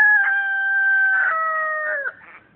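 A rooster crows one long, loud, drawn-out call that wavers and falls off at the end, followed by a brief softer note, close to the listener.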